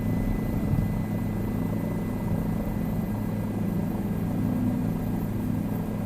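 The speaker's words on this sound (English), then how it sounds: "Checking out the new Bell 407 helicopter." A Bell 407 helicopter flies over New York in the Flight Simulator video game, its engine and rotor making a loud, steady, continuous drone throughout.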